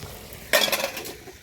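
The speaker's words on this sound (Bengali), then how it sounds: "এই যে দেখো মাটনটা এবার কষাতে বসিয়ে দিয়েছি" Mutton curry being stirred in a hot pan during slow browning (kosha), a sudden burst of sizzling and scraping that starts midway, peaks briefly, then eases off, close and moderately loud with no talking.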